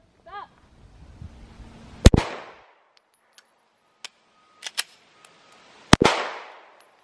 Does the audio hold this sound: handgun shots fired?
yes